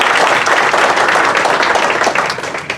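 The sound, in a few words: audience clapping at a band concert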